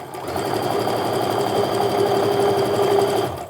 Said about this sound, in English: We're just gonna sew our regular 1/4 inch seam, match up those corners.